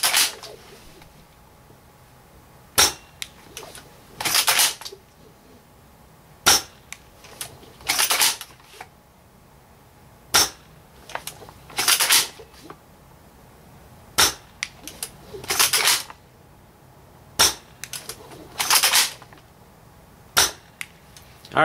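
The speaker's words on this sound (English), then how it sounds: "Going to be using .25 gram BBs for this test. Going to shoot the stump over here." Dragunov airsoft rifle firing .25 gram BBs at a stump about 80 feet away outdoors: sharp, close single shots repeated at irregular intervals, each followed by a quick mechanical cycling sound, with quiet gaps between.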